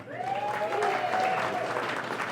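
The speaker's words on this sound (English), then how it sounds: "Give yourselves a round of applause for coming out tonight." Audience applause from a crowd at a live road gig, a steady wash of clapping that holds for a couple of seconds at moderate volume with a faint voice over it.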